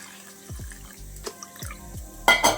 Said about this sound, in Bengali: চিড়ে পরিষ্কার করে ধুয়ে জল ফেলে দিতে হবে।